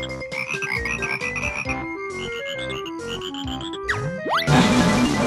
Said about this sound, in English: Whole bunch of frogs, so we can hit them all one by one.